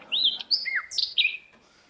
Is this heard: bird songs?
yes